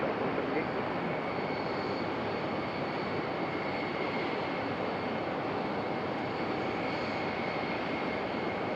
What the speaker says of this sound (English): So there's our ultra rare CRJ 550 from United Express.